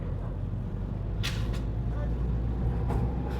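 Car engine pulling in second gear on a narrow mountain road, a steady low rumble of the cabin drone with a few brief squeaks and clicks, under someone talking.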